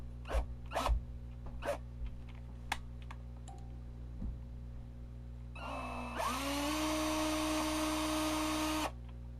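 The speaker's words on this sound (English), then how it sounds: "Drill bit got a little grabby there." A drill bit bores into a part of an Adcom GFA-555 mkII amplifier during a filter capacitor replacement. Sharp clicks and taps come first, then a close, steady whirring drill run rises in pitch and lasts about three seconds before stopping.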